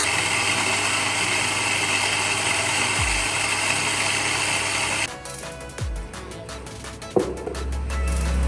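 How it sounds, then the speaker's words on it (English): An electric coffee grinder whirs loudly and steadily through whole coffee beans for about five seconds, then the motor cuts and a few clattering bumps follow. "I just put the coffee beans into the grinder. So let's start it."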